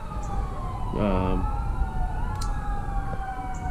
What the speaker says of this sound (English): forgive the background sirens